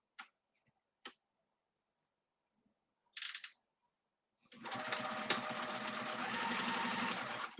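A sewing machine stitches a seam on a mini messenger bag at a 3 stitch length, running loud and steady for about three seconds after a few faint handling clicks and a brief rustle.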